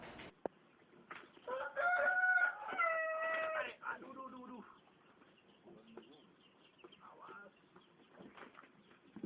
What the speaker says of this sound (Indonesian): Mulailah kedua ayam jantan adu itu dilepaskan.